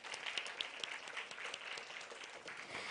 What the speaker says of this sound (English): A loud round of applause for them.